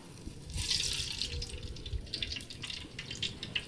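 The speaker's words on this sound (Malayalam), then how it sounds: "അപ്പോൾ നമുക്ക് വെളിച്ചെണ്ണ ഒഴിച്ചു കൊടുക്കാം" Coconut oil already used for frying chicken is poured into a cooking pan, a close liquid stream that gurgles and splashes unevenly for several seconds, with no talking.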